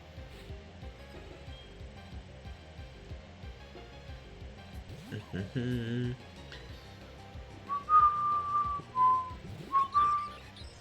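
Someone whistles a few short tonal notes near the end, faint and brief, after a quiet stretch of low game sounds and background talk.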